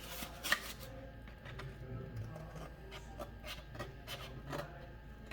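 A carved tiki form being cut and trimmed by hand, with a continuous run of close scraping and rasping strokes in an uneven rhythm, moderately quiet with no talking.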